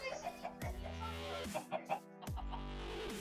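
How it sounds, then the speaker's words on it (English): Blocky Minecraft chicken clucking in a short run of soft, repeated clucks, fairly quiet under game sounds and a little background activity. "Oh, hello, chicken."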